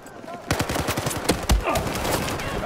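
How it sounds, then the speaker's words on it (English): Close gunfire in the video game Battlefield 4: rapid automatic bursts of shots rattle loudly for about two seconds. "Oh, someone shot me up the stairs."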